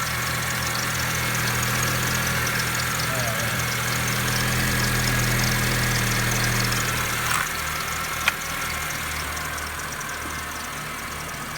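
A 2010 Honda Civic engine idles steadily up close, an even mid-pitched hum with a faint thin belt squeal riding on top, then a sharp click near the end.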